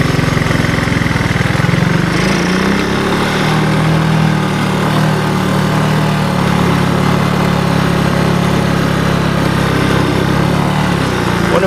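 Engine of a 1984 Honda ATC200S three-wheeler on a short ride, a loud, continuous close-up drone that revs slightly near the start and then holds steady, with no speech.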